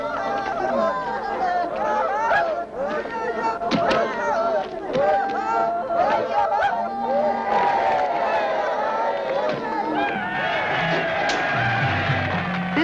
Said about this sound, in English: there was an especially large crowd and a great deal of cheering and shouting for one of their young men